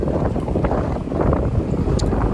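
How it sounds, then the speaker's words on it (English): Wind gusting hard into a microphone outdoors, a loud, continuous low buffeting rumble that swells and dips over a couple of seconds, with no voices. "it's windy"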